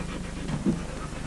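A dog pants close by in quick, rhythmic breaths, with a brief louder huff partway through, all heard alone without talk.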